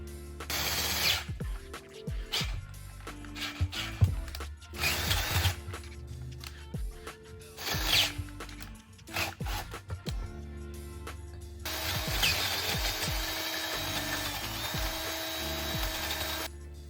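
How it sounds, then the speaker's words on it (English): A power drill bores through metal Jeep wheels in repeated bursts, whining and grinding between short pauses, then settles into one long continuous drilling run near the end. "You see that little ring is essentially what I'm boring out right now."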